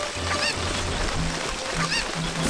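Cucco chicken in the video game Ocarina of Time, squawking in a few short honking clucks over a busy, noisy game background, fairly close and unaccompanied by speech.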